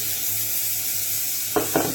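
Butter foams and sizzles in a warm frying pan with a low, even hiss, then two short brighter bursts of crackle near the end, no one speaking.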